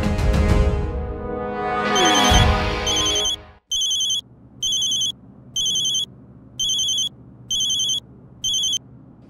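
A phone ringtone chirps in six regular bursts of high electronic trills separated by short pauses, following a stretch of music.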